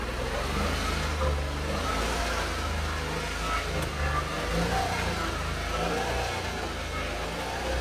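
A 2016 GMC XL with a blown engine revs steadily under acceleration, a loud, continuous mid-pitched engine roar that holds close and constant throughout with no talking.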